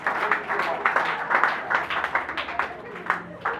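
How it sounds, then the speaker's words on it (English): A live audience gives a round of applause, many hands clapping at moderate volume with uneven, distinct claps throughout and a voice speaking over it. "A round of applause for them"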